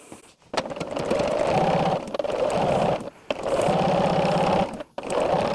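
An electric sewing machine stitches quilt strips along a quarter-inch seam line, running in three steady, close mechanical bursts that pause briefly between them.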